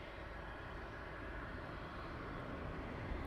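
Ryanair airliner at East Midlands Airport at night, a steady broadband jet roar holding at an even level throughout, without voices.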